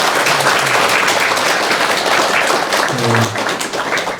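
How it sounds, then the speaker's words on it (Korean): Audience applause in a talk on healing parent–child relationships: dense, steady clapping fills the whole stretch at a loud level, with a brief low voice and a short tonal sound near the end underneath. "여러분 박수 한번 주세요"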